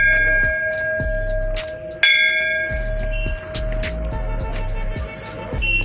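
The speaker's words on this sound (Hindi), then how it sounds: "और ये भाई घंटी बजा दे भाई," Brass bells at Surkunda Devi hill temple rung repeatedly: a steady series of loud, close metallic strikes, each leaving a long ringing tone that overlaps the next.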